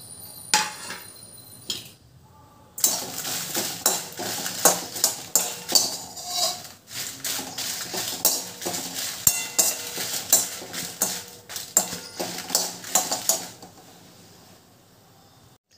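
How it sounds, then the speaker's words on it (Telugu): A spoon scrapes and clatters steadily in a pan as about twenty dried red chillies roast in a little oil over a low flame. The rhythmic stirring runs for several seconds before tapering off, with no voices. "ఇప్పుడు ఎండుమిర్చి ఫ్రై చేసుకుందాం."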